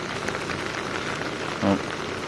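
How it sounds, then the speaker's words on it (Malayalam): Steady rain pours down with a constant broadband hiss, briefly joined by a short low tonal hum near the end. "ഭയങ്കര മഴ കേട്ടോ"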